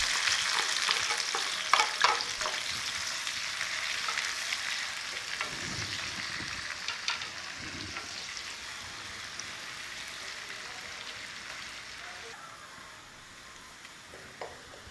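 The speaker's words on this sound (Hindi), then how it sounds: "प्याज को फ्राई कर लेते हैं।" Onions frying in a pan with ground ginger-garlic paste, turmeric, cumin and coriander nearby, a steady close hiss of sizzling oil with occasional stirring scrapes and crackles, no talking.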